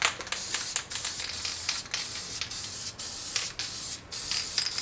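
An aerosol can of copper gasket coating hisses in repeated bursts of spray onto engine head gaskets, close and steady, with brief pauses between each blast.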